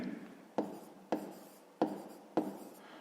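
Pen or chalk writing out a fifth-grade math solution, four short scratchy strokes in a steady rhythm, close and fairly quiet with no talk over them.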